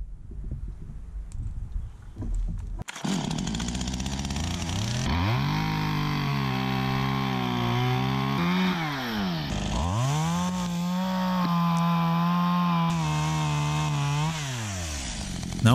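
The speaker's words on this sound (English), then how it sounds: "I attach a pulling rope and cut a small felling wedge" A chainsaw starts with a sharp pull, then roars close and loud, its engine pitch dipping and rising under load as it cuts a small felling wedge into a tree near a house.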